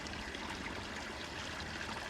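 Water released from an old garden pond rushing down a channel, a steady, broad hiss and gurgle that stays even and fairly quiet throughout with no other sounds.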